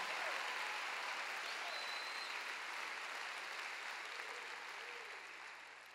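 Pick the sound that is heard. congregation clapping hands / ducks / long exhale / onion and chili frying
congregation clapping hands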